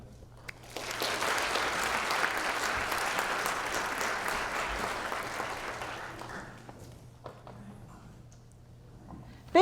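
Audience applause for a guest speaker at a leadership speaker series event, a steady burst of many hands clapping that starts abruptly, holds for about five seconds, then thins out into scattered claps and quiet.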